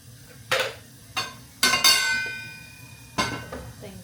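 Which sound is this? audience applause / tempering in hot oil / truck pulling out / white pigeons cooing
tempering in hot oil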